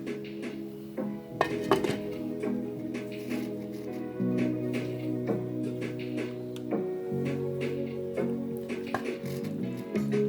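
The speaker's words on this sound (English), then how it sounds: "Now I'm going to turn the fire low and cover the pot." A metal lid clinks and rattles onto a cooking pot of turmeric jasmine rice over a low flame, giving a few sharp clanks and scrapes among other soft kitchen clatter.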